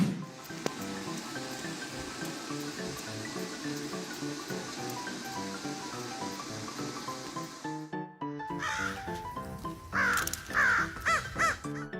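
After a stretch of music, crows caw nearby in several harsh, repeated calls with some rustling underneath.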